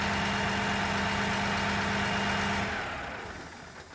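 A diesel engine runs steadily at a loud, even idle-like drone with a low hum, then the sound fades and drops away over the last second or so as it is shut down.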